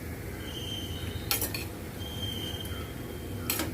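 Corn fritters sizzle steadily in oil in a kadhai while a spatula flips them, with a couple of sharp metallic scrapes and clinks against the pan over the constant frying hiss.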